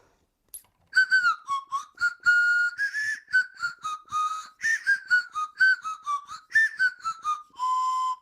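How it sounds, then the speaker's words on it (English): A slide whistle plays a bouncy, choppy run of short notes that step up and down in pitch, clear and close with no voices. "this end is a swanny whistle"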